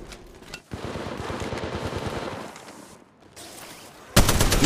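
Automatic weapon fire from the mobile battle royale game Apex Legends Mobile comes in rapid bursts, a sustained volley, a short lull, then a louder close burst at the end.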